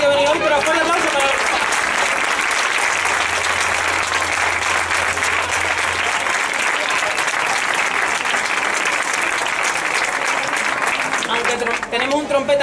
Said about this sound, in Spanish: fuerte aplauso para...